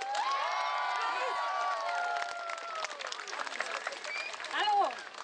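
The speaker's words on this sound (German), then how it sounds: "Applaus!" Crowd at an outdoor anti-ACTA protest rally claps and cheers, with whistles and shouts rising over scattered applause that swells again near the end.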